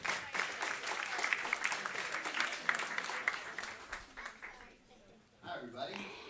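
An audience claps for Sam Kass at a regenerative food systems talk. Dense, steady applause with some laughter rolls along, then thins and fades out near the end.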